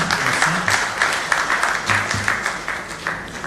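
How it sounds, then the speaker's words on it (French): An audience at a conference panel on insurance distribution strategy applauds, a dense, steady round of clapping from many hands filling the room for several seconds. "Des applaudissements pour vous."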